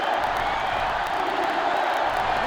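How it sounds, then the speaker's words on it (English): Sellout stadium crowd in the NCAA Football 08 video game produces a steady, loud wash of roaring noise with no pauses, sustained throughout without distinct claps or voices standing out. "This sellout crowd is really making a difference now as these guys can't even call the play"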